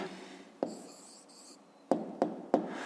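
A pen writes an answer in a notebook in a few short, close strokes and taps, quiet and separated by brief gaps.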